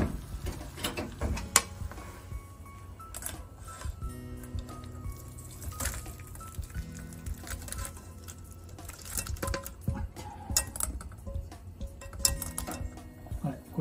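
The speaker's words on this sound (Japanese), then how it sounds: "これでこしちゃいます。" Shrimp soup flambéed over high heat and then poured through a strainer in a home kitchen, giving a wet, irregular patter of dripping and trickling liquid with scattered utensil clinks and faint talk underneath.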